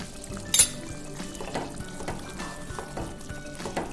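Olive pickle stirred into a pot of beef curry in a home kitchen: one sharp clink of a utensil against the pot, then soft, wet scraping and stirring strokes.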